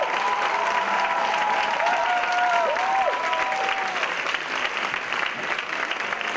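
An audience at a live Kathak dance performance applauds to welcome the tabla player, a steady wash of crowd clapping, while a sustained instrumental drone, likely harmonium, sounds faintly beneath.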